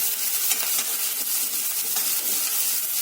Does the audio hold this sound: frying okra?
yes